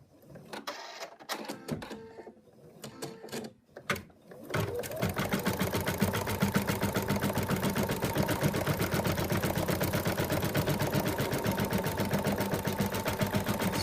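An embroidery sewing machine stitches the outline of a moose body, a steady rapid close-up clatter running continuously from about four seconds on, preceded by scattered handling clicks and taps, with a person talking.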